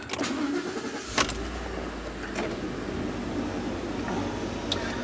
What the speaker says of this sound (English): I'm gonna crank out my truck